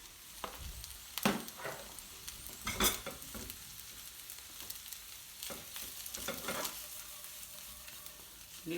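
Pilau rice is stirred in a new frying pan, with close scraping and tossing strokes in uneven bursts over a soft, constant sizzle and no voices.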